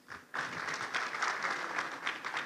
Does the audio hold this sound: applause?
yes